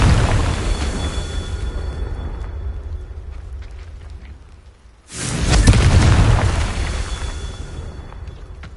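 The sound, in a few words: Confringo blasting spell explosion in a Harry Potter video game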